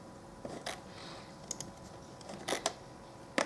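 Computer keyboard typing arrives in short irregular bursts of crisp key clicks, close and fairly quiet, with pauses between the clusters.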